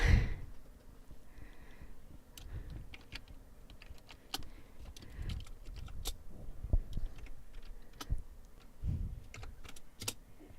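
Keys clatter on a computer keyboard in a steady run of light taps, with a few sharper strokes standing out above a quiet room background.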